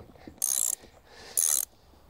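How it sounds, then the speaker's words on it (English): A ratchet tightens a bolt on a wooden garden stool outdoors, giving two short, crisp bursts of rapid clicking separated by a brief pause. "so we need to use a ratchet"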